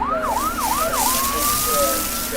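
Wailing emergency siren of a wildfire fire engine, a few rapid rising-and-falling yelps followed by a long steady tone, loud and close with a constant low hum beneath and no talking.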